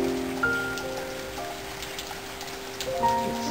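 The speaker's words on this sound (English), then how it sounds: "spring rain." Spring rain falls outdoors in a soft, steady patter that is fairly faint and continuous, with a few slightly louder drips and no voices.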